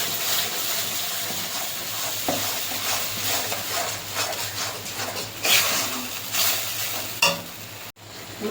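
Ground spice paste sizzles and fries in butter in a pan for chicken butter masala, a dense steady crackle with scraping stirs and a few sharper clatters near the end, up close with no talking.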